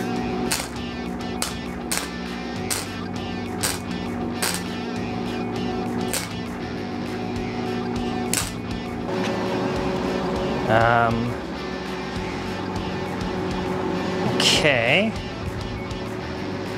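A MIG welder pops while welding on a Mini, giving a steady, evenly spaced run of sharp pops over a constant electrical hum, followed by a voice speaking briefly near the end.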